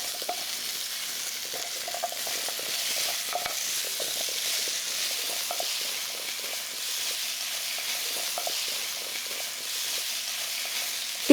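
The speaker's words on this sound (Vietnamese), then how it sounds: "Xào trong 2 phút nữa." White radish, red radish and carrot stir-fry in a hot pan with banana already cooking, a steady close sizzle broken by scraping stirs and brief clinks, with no voices.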